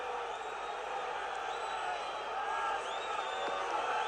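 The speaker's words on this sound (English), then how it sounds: "listen to the reaction of the crowd" Stadium crowd at the 1973 European Cup Winners' Cup final between Leeds United and AC Milan, reacting to a penalty appeal with a sustained distant roar and whistling that swells slightly near the end.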